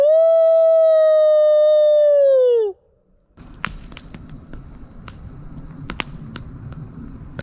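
A single long, steady howl rings out loudly at a night camp by a hot tent, sliding down at its end; after a brief silence, quiet crackling and ticking follow.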